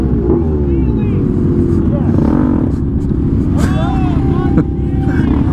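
Motorcycle engine droning loudly and steadily at close range during a wheelie, with people talking over it.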